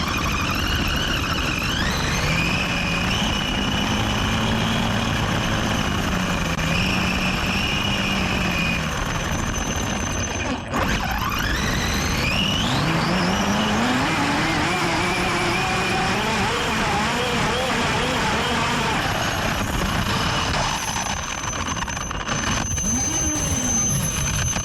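A Losi 5ive B RC car's big motor runs on wet grass, whining and surging up and down in pitch over a steady loud drone, with repeated rising revs and no clear talk.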